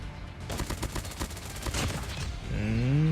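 Rapid close bursts of UZI submachine gun fire in Call of Duty Mobile on the Wasteland map crackle steadily in quick succession, then a rising warbling in-game tone sounds loudly at the end.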